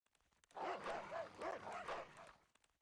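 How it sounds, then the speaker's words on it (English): Several short dog barks ring out in quick succession in the Fate/Grand Order video game, faint and somewhat distant, with a brief whimpering trail at the end. "The moment you hear the distant barking"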